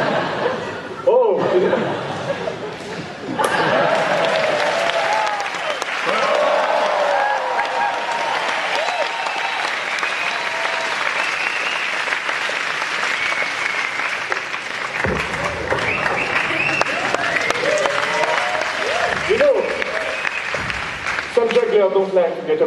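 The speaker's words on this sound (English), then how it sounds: "Don't like to get applause when they miss." An audience at a juggling act bursts into loud, sustained applause mixed with chuckles and laughter, filling nearly the whole stretch with clapping that swells and dips, plus a few brief voices.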